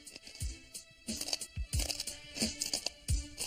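Someone chewing and crunching thin glass, close and fairly quiet, with several gritty crunching bursts and crackling bites spaced irregularly, each with a low thud at onset.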